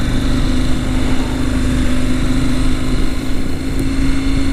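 Steady, loud engine drone from a KTM 790 Adventure motorcycle being ridden at an even speed, with a continuous hum and wind rush and no voices.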